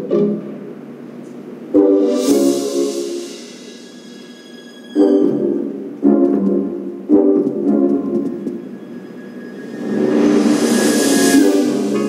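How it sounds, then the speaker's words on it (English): A kettle whistles in a video game scene, rising in shrill bursts that start and stop several times over about twelve seconds, loud and close, with hissing steam between the whistles and no talking. "That's the kettle."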